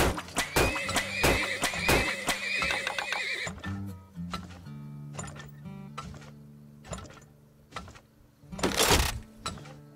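Horses neighing in the video game Turmoil, loud repeated whinnies at the start and again near the end, with clip-clop hoofbeats and mechanical game sounds between them.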